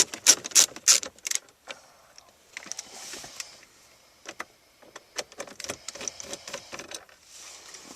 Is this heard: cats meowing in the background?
no